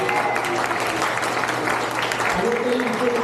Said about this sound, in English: Well, let's clap first.